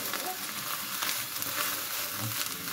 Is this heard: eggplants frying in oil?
yes